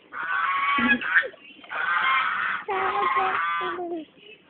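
Several loud, nasal goose honks in quick succession, close by, with brief pauses between calls.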